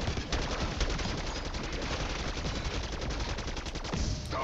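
Rapid, continuous gunfire from a wonder weapon in a video game, dense and loud throughout with no speech.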